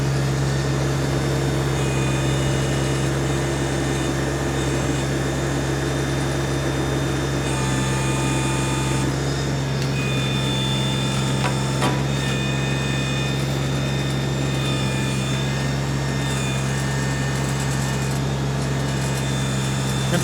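A New Holland tractor backhoe runs at high engine RPM, giving a loud, constant diesel drone with a steady pitch and a few faint hydraulic and mechanical clunks throughout.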